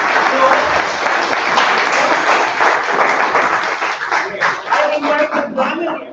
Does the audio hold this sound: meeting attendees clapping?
yes